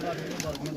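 Brief, soft cooing from pigeons on a rooftop in Azad Kashmir, a low throaty call heard quietly and at a slight distance.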